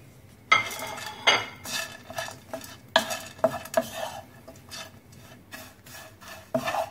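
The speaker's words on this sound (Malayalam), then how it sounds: "അതിലോട്ട് ഉള്ളി, കുരുമുളക്, വെളുത്തുള്ളി ഇതിട്ടിട്ട് നന്നായിട്ടൊന്ന് വറുത്തെടുക്കാം" Grated coconut roasting in a pan with onion, black pepper and garlic, sharp repeated scrapes and clinks of a spoon against the pan over a soft sizzle, close and alone.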